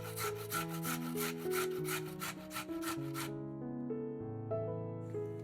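A carrot is rubbed across a coarse grater with quick repeated scraping strokes for about three seconds, close and fairly soft under background music. The scraping stops, leaving only the music.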